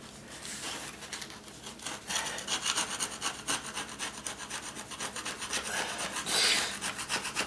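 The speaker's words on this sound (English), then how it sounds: "you get your sheetrock knife all the way in there so you feel like you're hitting the concrete" A sheetrock knife scraping and cutting through linoleum flooring down to the concrete beneath, a faint rhythmic rasping of repeated strokes, heard alone.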